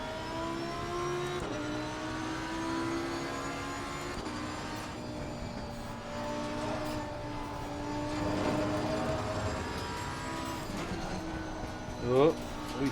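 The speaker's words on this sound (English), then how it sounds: "Listen to that little rattle from the exhaust" A race car in a sim racing video game drones steadily, its engine tone rising and falling through gear changes with a light exhaust rattle, while someone talks over it.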